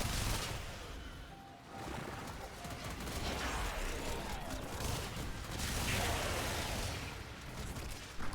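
Rapid gunfire from the Warframe video game fills a chaotic firefight, with bursts of shots over a busy background of other combat noise; the barrage dips briefly, then resumes.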